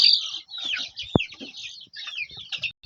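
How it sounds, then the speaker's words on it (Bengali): Hens on a small village poultry farm, close and lively, with overlapping high clucks and chirps, a sharp tap midway and short pauses between bursts. "এই যে মাত্র ছোট একটা মুরগির খামার করলাম"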